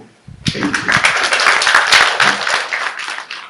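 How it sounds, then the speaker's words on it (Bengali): An audience breaks into sustained applause at a museum event with the chief adviser, a dense wash of many hands clapping that swells quickly and holds steady for several seconds. "একটা হাত তালিও দিয়ে দিতে"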